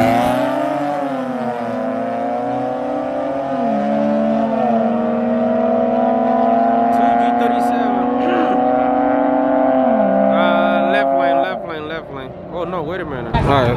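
An Audi and a BMW street race late at night in Mexico, engines revving hard through rising and shifting gears, loud and close, before the tone breaks up into rapid varied revs near the end; a voice talks over it.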